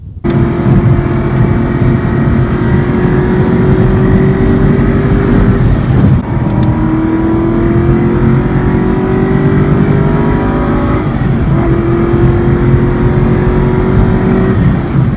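After a downshift, an exotic car's engine revs hard through three rising pulls, each dropping off before the next climb. The roar is loud, close and continuous, heard from inside the car on a rural road.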